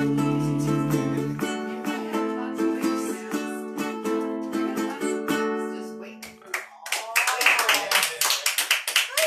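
Sustained strummed guitar chords ringing out at an open mic night, then a scattered round of audience clapping breaks in as the song ends, close and uneven hand claps.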